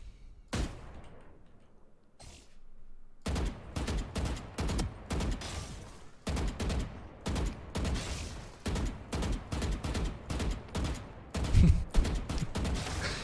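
Sustained automatic Vandal rifle fire in Valorant, shot at strafing practice bots: a brief burst, then long runs of rapid, loud, closely spaced shots in repeated bursts with short gaps, fairly near.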